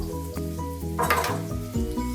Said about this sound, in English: We want a hot oil with a nice sizzle.